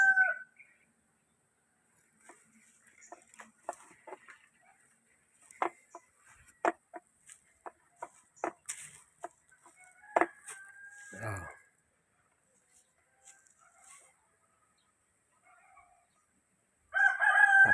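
A rooster crows near and loud, with scattered clucks and short calls from chickens around it at a chicken coop, then a stretch of quiet before another burst of crowing.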